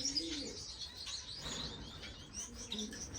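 Lovebirds and finches in an indoor bird room give a busy mix of sharp chirps, tweets and soft coos, some close and some farther off, with occasional wing flutters.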